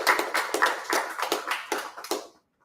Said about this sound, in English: Round of applause, well done.